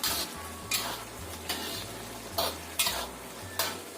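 Sizzling frying with repeated scraping strokes of a utensil stirring fried chicken in a thickening sauce in a pan, steady and close, every half second or so.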